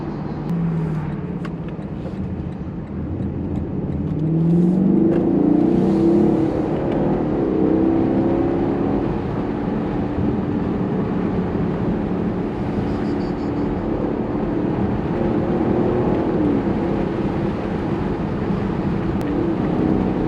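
A Lexus LC Cabriolet V8 drones steadily with a rising, revving pitch as it shifts gears between 4,500 and 5,000 rpm, heard from inside the cabin without any talking.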